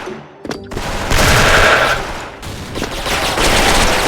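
Rapid automatic fire from a Platinum FAMAS 2nd Gen rifle in the shooter game Special Force, loud bursts running almost continuously through the moment after a brief opening crack, with no voices over it.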